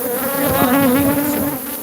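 A dense swarm of agitated Africanized killer bees buzzes loudly and continuously around exposed solid comb, a close, steady hum with wavering pitch and no talking.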